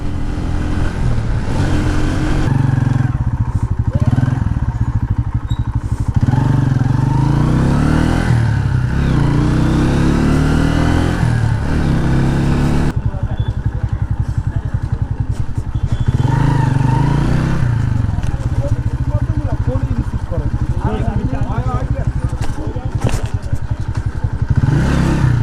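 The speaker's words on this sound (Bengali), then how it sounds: "বাইকটার মারাত্মক একটা রেসপন্স, আর চালায় আলহামদুলিল্লাহ অনেক মজা" A motorcycle ridden on Dhaka roads, engine note rising and falling as it accelerates, steady and close throughout with rattles and thumps from the road, no talking.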